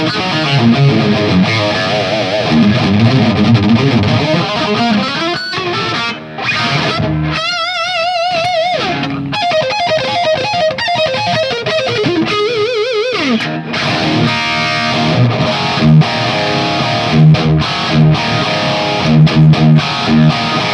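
Distorted electric guitar through a Marshall JVM410H amp plays continuously, with chords and melodic runs, overdriven tone throughout and no voices.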